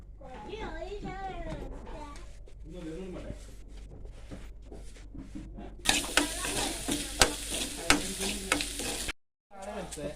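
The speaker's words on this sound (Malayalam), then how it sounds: "ചെറിയുള്ളി വെളുത്തുള്ളി കറിവേപ്പില ഇത് മൂന്നും കൂടെ വണ്ടക്ക വാട്ടിയ ചീനച്ചട്ടിയിലാണ് വറുത്തെടുക്കുന്നത്" A voice talks over quiet kitchen sounds, then loud sizzling and crackling of shallots, garlic and curry leaves frying in hot oil in a pan takes over for a few seconds before cutting off.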